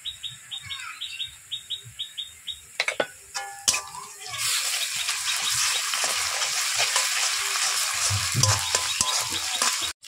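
Ginger garlic paste hits hot oil with fried onions in a pan, a loud, steady sizzle that rises after some chirping birdsong and clinks at the start.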